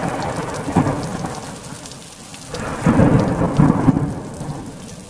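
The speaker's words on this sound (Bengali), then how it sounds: "বর্ষার এক গভীর রাতে প্রচণ্ড বৃষ্টি পড়ছিল" A heavy downpour of rain drums steadily on surfaces on a deep monsoon night, with low rolling thunder swelling near the start and again in the second half, with no voices.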